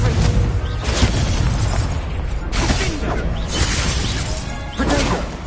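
Blast from the Confringo spell in a Harry Potter–style spell-casting video game, a series of loud crashing, booming bursts with shattering debris, dense and close, repeating over several seconds.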